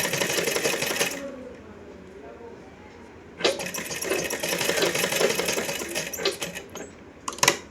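A sewing machine stitches a salwar seam in two loud bursts of rapid mechanical chatter, separated by a quieter pause, with a few sharp clicks near the end.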